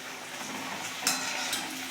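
Potatoes frying in oil in a pan, a soft steady sizzle with a couple of brief stirring clinks, fairly quiet throughout.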